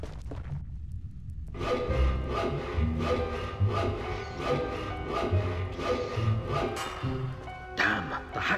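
Rhythmic back-and-forth sawing strokes of a hacksaw in a prison-escape video game, steady repeated rasping for several seconds after a short quiet start, close and fairly loud with no talk.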